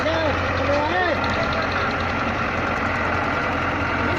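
A Massey Ferguson 240 tractor engine runs steadily while stuck in slick clay mud in a Pakistani village field, a constant low rumble under nearby voices talking.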